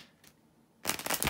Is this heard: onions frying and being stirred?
no